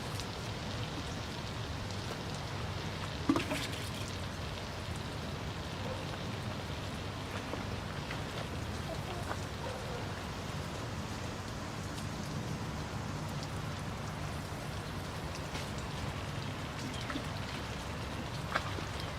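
Water pours over the soil of a Schefflera bonsai in its pot, a steady, even hiss and patter that stays close and continuous, with one small knock partway through.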